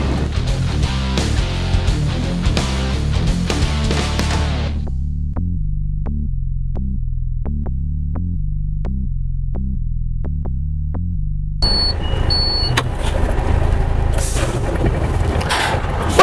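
A UD Trucks truck with an MK6 automatic gearbox drives along, its loud, steady engine drone dropping in pitch as the transmission shifts down a gear, with a brief break in the roar before broadband road noise returns.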